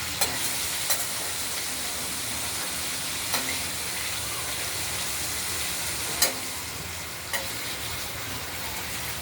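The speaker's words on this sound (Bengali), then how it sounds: "ডাঁটার আলুগুলোকে আরেকবার ঢাকনা খুলে আমরা নেড়ে দিলাম।" Potatoes and vegetable stems frying in a pan, a steady close sizzle with occasional sharp clinks of a spatula stirring against the pan.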